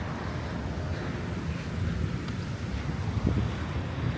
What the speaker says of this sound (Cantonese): 係有風啊